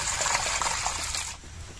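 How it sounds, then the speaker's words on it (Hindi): Water poured over fish roe in a pot, a steady splashing trickle and gush that runs close and fairly loud for over a second, then tapers off near the end. "चलिए हम पानी डाल देते हैं"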